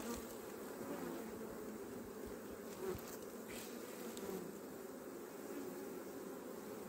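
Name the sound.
honeybees buzzing at an open hive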